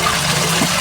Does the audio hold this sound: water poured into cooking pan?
yes